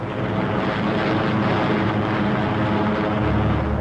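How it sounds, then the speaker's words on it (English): Heavy four-engine Flying Fortress bombers drone overhead in a continuous, loud, steady propeller-engine roar that fills the whole moment without any speech. "here are the heavies, giant flying fortresses that drop their tons of high explosives on pinpoint targets"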